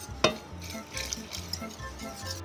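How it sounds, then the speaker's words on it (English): A whisk works a thickening, velvety mixture in a pot, giving soft rhythmic scraping and light metallic taps, close and fairly quiet, with a sharper clink at the start. "Whisk really well."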